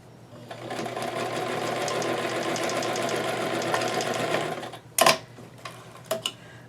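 A sewing machine stitches a doll dress in a steady, fast run of close-up needle clatter for about five seconds, then stops, followed by a few brief clicks and handling knocks.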